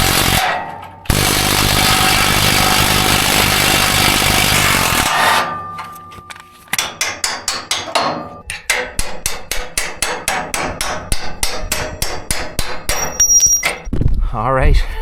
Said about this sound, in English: we're going to loosen this nut here, drop this leaf spring down, and we're going to get this bushing out and replace them